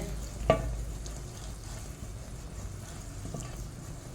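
Ghee foams in a pan over medium heat while a spoon stirs it for a Kannada sweet, with a soft steady sizzle, a sharp spoon knock near the start and a fainter tap later.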